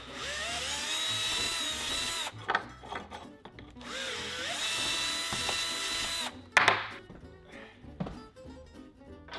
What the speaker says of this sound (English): gonna drill this holes just a little bit bigger so this bolt sinks in